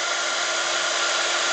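A heat gun blows a steady, loud whooshing hum while melting clear embossing powder on a stamped card, an unbroken whirring drone with no talking.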